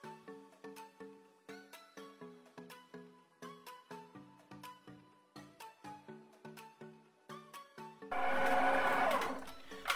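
A plucked, bell-like tune plays for most of the stretch. Then a stand mixer kneading cinnamon roll dough cuts in with a loud, steady motor whir for a couple of seconds.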